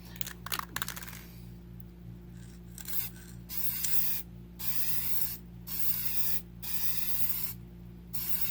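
Aerosol spray can misting a light coat of finish onto charred wood, a series of close hissing bursts of about half a second to a second each, separated by short pauses, with a few clicks at the start.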